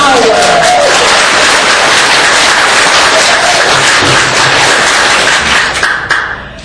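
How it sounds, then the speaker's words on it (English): A crowd at a candidate forum for North Carolina's 50th Senatorial District claps in a loud, continuous wash of applause that holds steady for several seconds and then tapers off near the end. "go ahead and clap"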